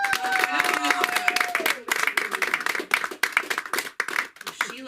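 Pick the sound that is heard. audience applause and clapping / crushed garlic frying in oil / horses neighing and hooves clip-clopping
audience applause and clapping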